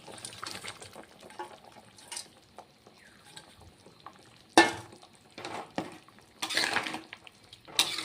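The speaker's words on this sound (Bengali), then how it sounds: "ভেজে রাখা পনিরগুলি দিয়ে দিচ্ছি" Fried paneer pieces tipped into a simmering potato and pointed gourd curry and stirred, giving scraping spoon-on-pan clatter and soft sizzling in irregular bursts, with louder clanks near the end; no one talks.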